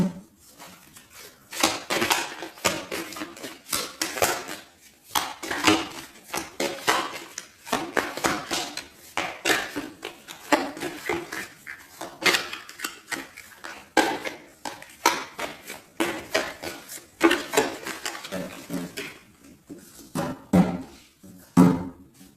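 Deck of tarot cards being cut and handled: a long run of sharp, close card slaps and snaps in irregular bursts, fairly quiet, with no talk over them.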